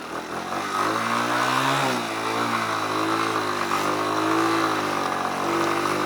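A motorcycle engine drones close by on a narrow, steep path, its pitch rising and dipping as the throttle shifts; a steady, fairly loud hum with no speech.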